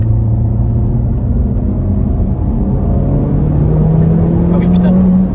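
A 320 hp Honda Civic Type R engine runs inside the car, a loud, steady drone that rises slowly in pitch as it pulls, while people talk over it.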